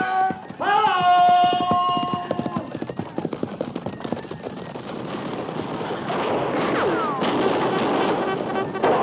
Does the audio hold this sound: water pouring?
no